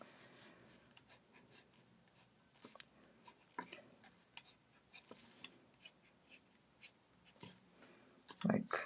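A pen scratches out quick strokes on paper in an ink sketch of a brick wall by a doorway, making soft, close, irregular ticks and rubs under faint talk.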